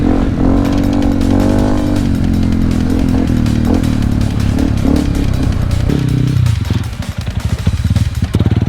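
An enduro motorcycle engine revs loudly and close up as the throttle is worked. The drone rises and falls continuously, then dips briefly near the end before picking up again.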